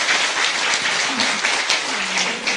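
A crowd at a Korean political talk event breaks into loud, continuous applause, a dense close-up roar of many clapping hands that stays strong from start to finish.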